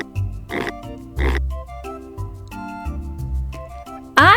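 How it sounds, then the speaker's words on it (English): A playful pig oinks in a cartoon farm-animal read-aloud, several short grunting oinks bursting over a steady, bouncy music bed, with a final louder squeal at the end. "I see a playful pig looking at me."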